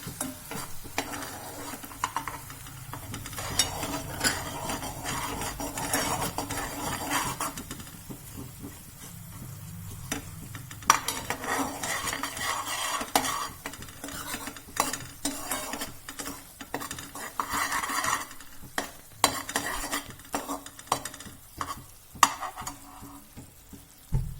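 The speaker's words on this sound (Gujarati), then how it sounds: "એના માટે આપણે ગોળ નાખશું ઘીમાં। ગેસની ફ્લેમ છે ધીમી રાખશું।" Jaggery stirred into ghee in a pan over a low gas flame, a steady soft sizzle with continuous scraping and spoon-against-pot clinks throughout, close and alone without talk.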